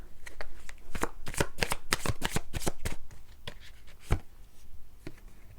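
Tarot cards shuffled, handled and laid out for a New Year love reading, a quick run of crisp riffles and slaps up close, then a few scattered placements.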